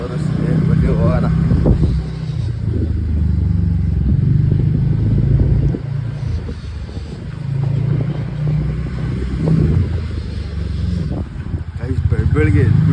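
A loud motorbike rumbles close by, its engine running with uneven surges and throttle bursts, while people talk over it.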